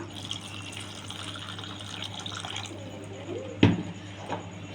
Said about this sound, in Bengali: চলো এখানে আমি দিয়ে দেবো পরিমাণ মতন একটু জল, জলটা খুব বেশি আমি দেবো না